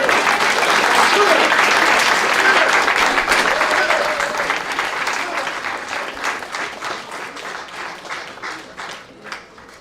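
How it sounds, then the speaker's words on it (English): An audience at a Year of the Snake celebration breaks into loud, sustained applause and hand clapping that gradually thins out and fades toward the end, with crowd noise mixed in. "You clapped your hands."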